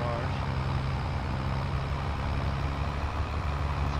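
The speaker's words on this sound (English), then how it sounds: "This tractor is a touch louder than ours." An Allis Chalmers 440 tractor engine runs steadily nearby while plowing a field, a loud continuous low rumble with no letup throughout.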